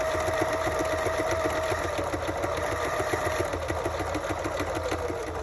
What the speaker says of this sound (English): Now this is one of my older sewing machines.